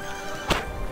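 A horse in the video game Robin Hood gives a single short neigh, a brief sharp burst midway through, heard over a faint steady game background with no voices.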